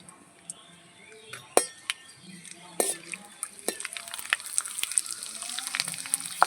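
Raw potato kurkure pieces go into hot oil in a pan. Faint clinks of utensils come first, then a crackling sizzle builds into dense popping, with no talk.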